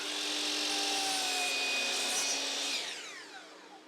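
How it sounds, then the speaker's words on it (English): Miter saw slicing through PVC trim, a loud close whining cut held steady for nearly three seconds before the blade spins down and fades. "Then I cut the trim to length on the miter saw."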